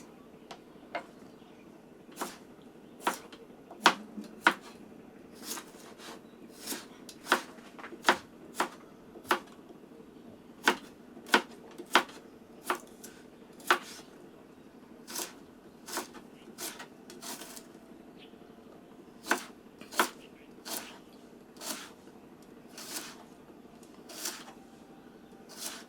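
A knife chopping food for lunch on a cutting board, sharp regular taps repeating roughly every second for nearly half a minute, close and clear with brief pauses between runs.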